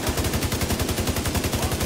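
Rapid automatic gunfire in The Division 2, a steady rhythmic burst of shots repeating evenly throughout, loud and close with no pauses.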